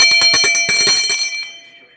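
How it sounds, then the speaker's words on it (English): A ritual hand bell from a Guyanese spiritual kit is rung in a quick series of bright metallic strikes, close and loud, then its shimmering ring decays away on its own. "I also have my bell"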